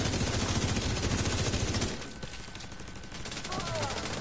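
Dense rapid gunfire in the shooter Destiny 2, a loud continuous automatic stream that eases into quieter repeated shots and softer background combat noise.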